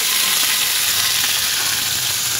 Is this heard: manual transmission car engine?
no